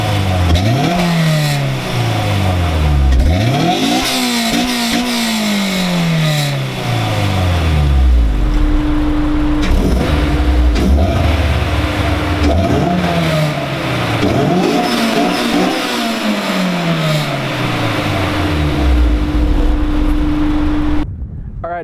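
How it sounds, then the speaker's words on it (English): A Honda S2000's exhaust, fitted with a test pipe, revs repeatedly, each rise in pitch followed by a falling drone, loud and close with a sharp blip between revs. "Let's get a clip of the exhaust."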